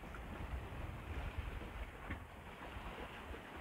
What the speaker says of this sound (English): just being passed by this general cargo vessel